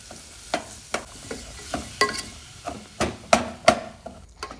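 Onion, garlic, carrot, chilli and sliced vegetables tempering in hot coconut oil in a pan for noodles, with a steady low sizzle broken by sharp spoon scrapes and clacks at an irregular pace, close and alone.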